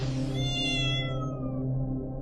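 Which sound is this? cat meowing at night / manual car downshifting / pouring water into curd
cat meowing at night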